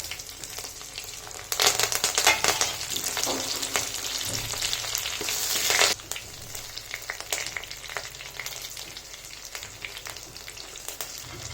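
Curry leaves and dried red chillies fry in hot oil for a horse gram rasam tempering. A loud, crackling sizzle surges for several seconds, then settles into a steadier, quieter frying hiss with no voices.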